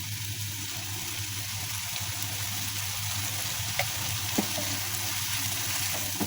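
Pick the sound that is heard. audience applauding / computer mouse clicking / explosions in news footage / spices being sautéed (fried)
spices being sautéed (fried)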